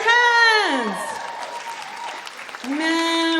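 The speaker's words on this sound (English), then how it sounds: "Clap your hands!" A comedy-show audience claps in a brief burst that sits between stretches of a woman's animated, singsong talk, which dominates both before and after the applause.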